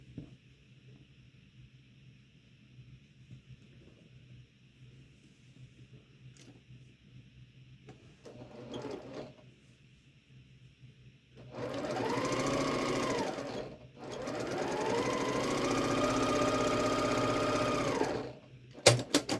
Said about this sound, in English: I got that piece sewn on after I changed my bobbin